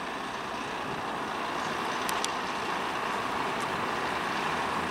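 A bus pulls into Blackburn bus station on the 6A route, its engine a steady broadband rumble amid continuous station noise, with a couple of faint brief squeaks or hisses partway through.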